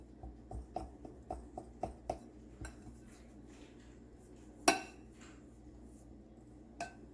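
Knife clicks against a plate or board while food is cut into six pieces without a cutting board, a run of short sharp taps early on, then a louder single clack and a faint later tap.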